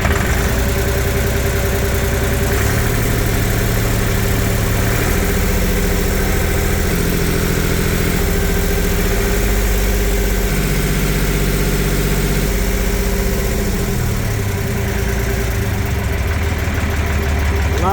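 A Duffield 345 boat engine from the 1950s idles up close, a steady loud throbbing drone with a deep low rumble, slight shifts in pitch, and a continuous mechanical hum underneath.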